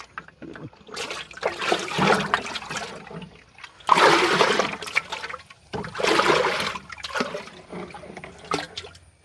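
Water from a single container is poured onto vegetable plants in several bursts, each a splashing gush that trickles off before the next pour, close and fairly loud.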